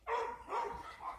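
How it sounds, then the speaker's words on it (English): A dog barks two or three times in a short sequence, fairly faint and at some distance, with no talking over it. "I do apologize for the dog barking."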